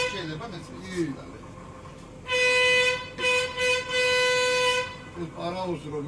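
The Kukushka narrow-gauge train at Bakuriani sounds its horn in two loud, sustained tonal blasts with a short break between them, while people talk before and after the signal.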